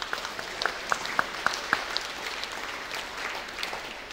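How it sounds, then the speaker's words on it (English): Scattered applause from a church congregation during a Sunday baptism service, a handful of sharp claps standing out over a soft room wash, fading after a couple of seconds. "Give a round of applause."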